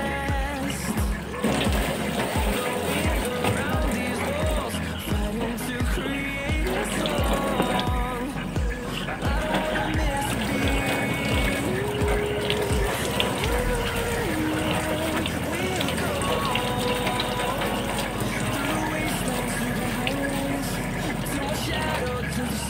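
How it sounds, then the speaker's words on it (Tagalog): Vegetables are washed under running water, a continuous close splash and trickle with faint clinks and handling sounds. It runs throughout while a voice talks. "so hugasan mo natin yung mga gulay."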